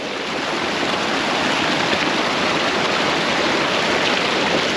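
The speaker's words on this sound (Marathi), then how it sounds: "वरून हे पावसाचं किंवा बर्फाचं वितळलेलं पाणी तसं किती स्वच्छ आहे बघा ना हे डायरेक्ट चाललं आहे नदीला" A clear mountain stream of rain and snowmelt water near Chitkul rushes steadily toward the river, a loud, unbroken broadband roar with no voices.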